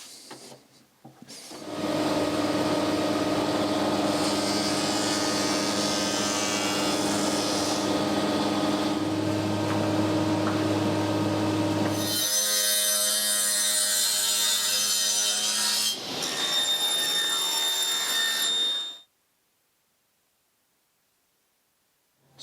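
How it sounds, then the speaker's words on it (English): Wood planks for an old house built in 1616 are fed through a planer, which runs as a loud, steady mechanical drone with shifting tones and a higher whine near the end before shutting off into silence. "we need to pass them a couple of times through the planer"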